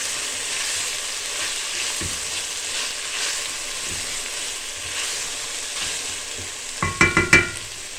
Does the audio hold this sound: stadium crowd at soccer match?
no